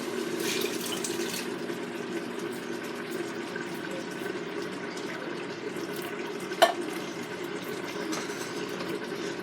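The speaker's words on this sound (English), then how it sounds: "I'm going to dump in the beans, juice and all" Canned beans and their juice pour into an 8-quart Instant Pot for chili, a steady wet sloshing and trickling with a single sharp knock partway through.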